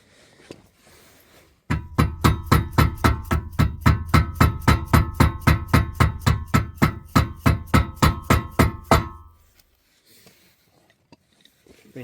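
A non-metal hammer pounds a bearing race into a trailer hub during a bearing repack, a fast, steady run of about thirty loud, evenly spaced knocks that stop abruptly.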